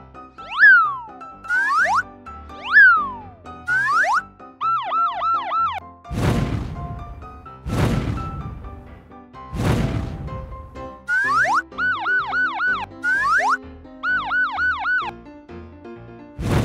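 A toy fire engine siren wails in repeated rising and falling electronic sweeps, broken up by a few booming swooshes, loud and close with no talking.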